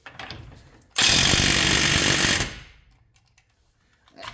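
A battery-powered impact tool struggles against a suspension bolt on a 2008 Hyundai Tiburon, one loud, harsh burst of about a second and a half in a garage, close, with quieter clatter before and after.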